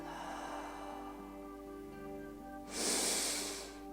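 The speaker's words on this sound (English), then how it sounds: "Exhaling soft and long out of your open mouth." A person breathing slowly during guided meditation, first a faint airy breath, then a soft, long exhale through an open mouth, close and gentle.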